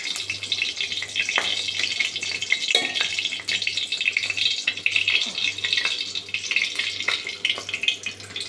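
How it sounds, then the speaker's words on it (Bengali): Food fries in a kadai wok on a stove, a soft, continuous sizzle and crackle with a low steady hum underneath and occasional clinks. "আমি ভাজাগুলো ভেজে নেব।"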